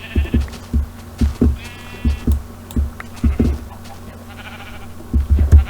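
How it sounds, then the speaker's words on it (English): Sheep in Minecraft bleat repeatedly while being sheared for white wool, short close calls recurring every half second or so over a low steady hum, with brief gaps and a busier cluster at the end. "Every sheep I encounter is getting, well, maybe not every, but every white-wooled sheep is getting sheared."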